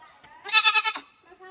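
A lone mountain goat on steep slopes bleats once, a loud wavering call about half a second long, near and clear, after a short quiet stretch.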